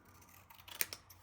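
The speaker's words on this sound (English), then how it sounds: "I'm gonna trim this off." A sheet of paper being trimmed with scissors, a few quick close snips clustered together over a faint background.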